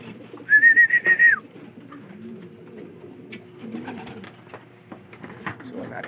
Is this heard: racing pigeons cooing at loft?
yes